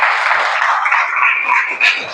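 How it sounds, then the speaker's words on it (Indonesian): Pupils in a classroom clap for a classmate, a dense continuous wash of small hands that stays steady and close, with a brief louder swell near the end. "Kita kasih tepuk tangan dulu untuk teman kita ini ya."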